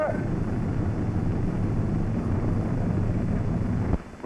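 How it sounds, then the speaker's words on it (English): Left engine of a military troop carrier airplane cranking and catching, a loud, steady low rumble with wind buffeting that holds for about four seconds before dropping off abruptly near the end. "I'm going to start the left engine."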